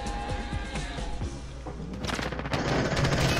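Rapid gunfire in a shooter game, bursts of sharp shots in quick succession, growing denser and louder toward the end, with a brief voice in the background.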